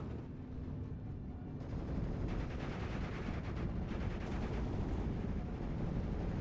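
A line of StuG IV assault guns fires in the WWII strategy game Steel Division 2, producing a dense, continuous barrage of booming shots and rattling gunfire layered over a constant low rumble.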